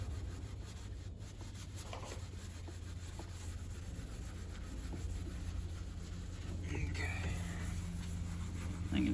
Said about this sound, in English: Just for fun, I'm gonna scrub that and see what it does.